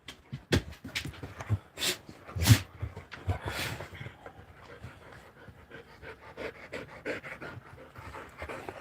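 Dogs pant rapidly and heavily while playing together indoors, with close breathy bursts, a few snorts and soft scuffling throughout.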